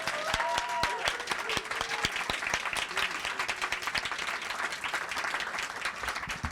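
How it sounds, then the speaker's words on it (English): Audience applause for readers at a poetry showcase exhibition opening, a steady wash of many hands clapping throughout, with a few voices and whoops rising above it. "Can we have another round of applause for our readers?"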